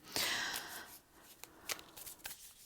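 Close, soft riffling and snapping of tarot cards being shuffled by hand, a long riffle followed by several quick taps and flicks.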